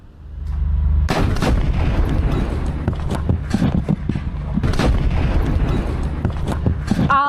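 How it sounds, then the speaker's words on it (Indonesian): Repeated heavy blasts and gunfire erupt in an attack on an Israeli Merkava tank in Gaza, loud and continuous with sharp booming bursts over a constant rumble. "Al-Qassam menyerang tank Israel menggunakan alat peledak hingga menyebabkan ledakan besar"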